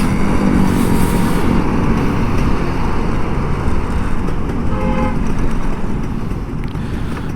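A bus going past on a seaside road, a loud broad rumble of traffic that swells early and slowly tapers off as it moves away, with no talking.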